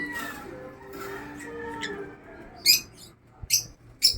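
Lutino Opaline birds in a new cage give a few short, sharp chirps near the end, heard over a quiet room with other faint birdsong and soft background tones.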